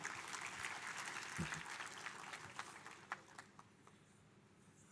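Audience applause at a Malpani Group M Connect 2025 speech event, a dense, steady clatter of many hands filling the room, easing slightly toward the end with a few louder isolated claps.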